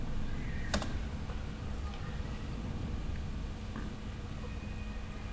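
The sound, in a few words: typing localhost on a computer keyboard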